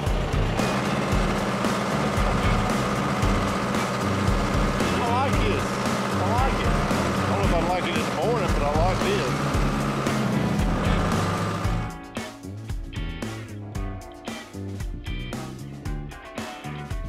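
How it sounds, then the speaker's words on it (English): A tractor engine drones loudly and steadily while it carries hunters out to a hunting stand during the Midwest rut. The tone rises and falls slightly, then the drone breaks into rougher, choppier bursts near the end. "the tractor is our cab"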